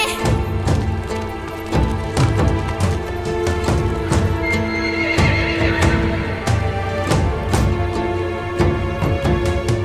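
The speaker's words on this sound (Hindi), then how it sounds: "या अल्लाह, जल्दी मेरा घोड़ा लाए, जल्दी करें।" A horse whinnies loudly while its hooves clip-clop in a steady rhythm, close by with no talking, in a Turkish historical drama series.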